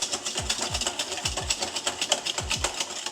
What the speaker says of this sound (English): Let's go ahead and get this whisked up.